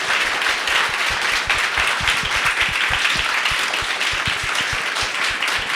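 An audience at a talk on constitution and secularism applauds its guests, a dense, steady clapping that lasts several seconds with no voices over it.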